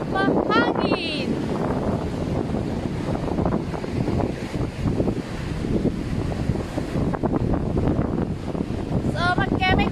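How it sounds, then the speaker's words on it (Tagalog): Steady wind buffeting the microphone on a beach in South Africa, with surf-like roar underneath and a few faint bird chirps near the start and end. "At mahangin."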